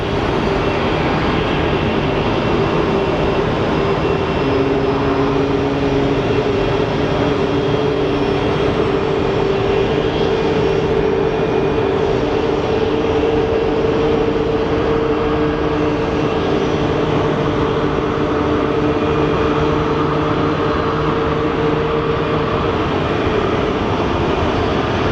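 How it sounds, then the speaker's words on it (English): Boeing 737 airliner taxiing at Phoenix Sky Harbor, a loud, steady jet engine drone with sustained tonal hum, continuous and close throughout without talk. "Our 737 is pulling up."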